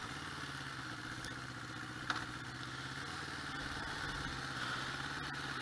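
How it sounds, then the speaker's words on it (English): A 1981 Honda CB750c motorcycle engine runs steadily and close up, a continuous mid-pitched rumble with a clattering texture that holds level throughout, with no talking. "I'm having too much fun riding my motorcycle."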